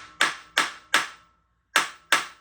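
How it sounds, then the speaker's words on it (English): Five sharp hammer blows strike a bolt on a 1974 Honda motorcycle, four in a fairly quick rhythm and a pause before the last pair, each a loud close metallic bang with a short ring and no talking. "Banging to the hammer."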